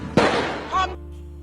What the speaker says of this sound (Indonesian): mulai dari suara TV yang pelan sampai suara petasan yang keras.